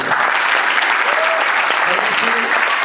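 An audience at a launch evening applauds steadily, a dense, even clapping that fills the room with no pause.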